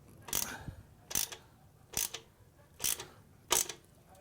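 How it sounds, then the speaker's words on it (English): Five quick ratcheting bursts, evenly spaced, as a 5mm Allen wrench snugs a bolt on the Yoshimura exhaust of a 2017 BMW R1200GS Adventure motorcycle; close and fairly quiet, with no voices. "This one down at the bottom takes a 5mm Allen wrench. So get that tightened up."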